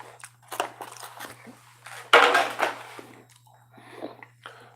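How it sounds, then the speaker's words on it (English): Someone eating vanilla caramel cake from a bakery, with soft, close mouth sounds of biting, squishing and chewing coming in short irregular bursts over a steady low hum. "Chewing on that a little bit."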